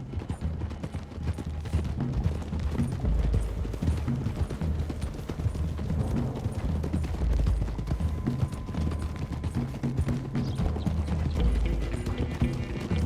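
Many horses gallop in Red Dead Redemption II in a steady, dense clatter of hooves, continuous and loud, with occasional distant gunshot-like cracks mixed in.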